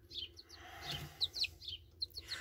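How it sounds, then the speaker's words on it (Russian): Young chicks, some with a Marans father, peep in a run of high, thin chirps, several overlapping calls close by with brief pauses between them. "Здоровенькие цыплятки."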